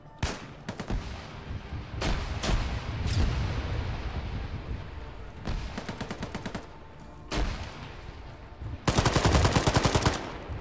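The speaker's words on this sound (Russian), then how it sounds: "Ну там какие-то выстрелы прям такие." Gunfire in the military game ArmA 3 crackles steadily: scattered single shots, then rapid automatic bursts, with one loud stuttering volley near the end, heard at mid distance without talk.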